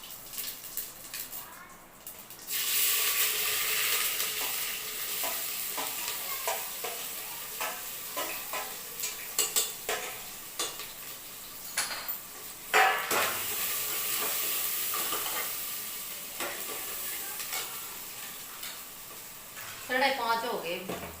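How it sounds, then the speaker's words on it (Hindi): Cumin seeds hit hot oil in a home kitchen while dal is being cooked, bursting into a sudden loud sizzle that then settles into steady crackling, with scattered stirring clatter and occasional talk. "और ये डालेंगे जीरा"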